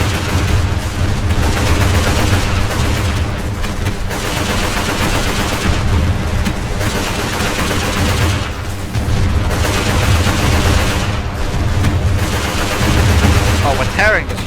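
Dense, continuous artillery and gunfire rumble through a busy battle between airships in the strategy game Airships: Conquer the Skies, with overlapping booms and crackling blasts at a steady, loud level.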